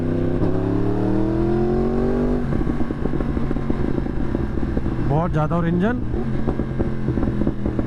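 A 2018 Yamaha R1 motorcycle engine drones loudly and revs up, its pitch climbing and falling, with someone speaking over the engine noise.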